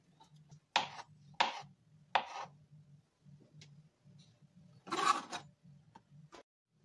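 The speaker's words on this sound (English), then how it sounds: "Next is going to be our avocado, so we're just going to chop them up in pieces" A knife chops avocado into pieces on a board, making several sharp, separate cuts with quiet gaps between them over a low hum.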